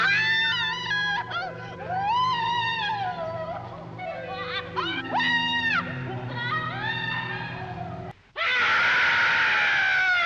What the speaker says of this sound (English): Her screaming's really annoying and takes a lot of the tension out of the picture.